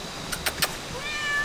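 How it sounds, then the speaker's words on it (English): A young cat inside an old house gives three short, soft meows in quick succession, fairly close, followed by a faint high whine. "We got another little kitty over here."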